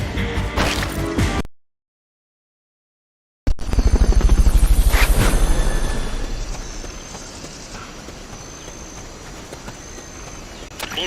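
Fulton recovery helicopter in Metal Gear Solid: Peace Walker. A loud rotor thrum swells in after a brief silent gap, with a crash-like hit near the start, then fades to a steady lower drone.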